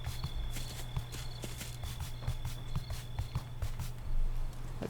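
Horse hooves clip-clopping at a walk in the survival video game Far Lands, a steady rhythmic series of close hoofbeats over a constant low hum and game ambience, with no voices.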